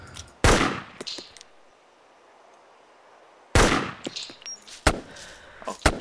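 Gunfire in the video game DayZ, two sharp loud bursts of shots separated by a few seconds of near silence, followed by a scatter of smaller clicks and thumps.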